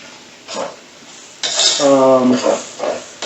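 Noodles and egg stirred in a pan with a metal utensil: a few scraping, clinking strokes against the pan, one louder burst of scraping with a brief ringing tone, moderately close and with no talk.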